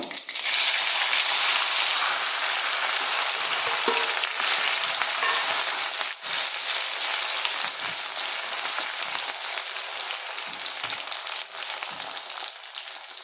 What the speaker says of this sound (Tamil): பொரிஞ்சிச்சு இப்போ சின்ன வெங்காயம்